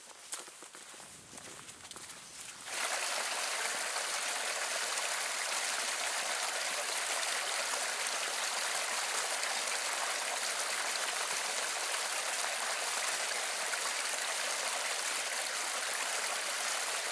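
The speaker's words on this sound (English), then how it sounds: "I can hear the water running right over the dam" Water spills steadily over a beaver dam on a forest stream in autumn, a continuous broadband rush that begins after a few seconds of quieter outdoor sound with footsteps and holds loud and even to the end.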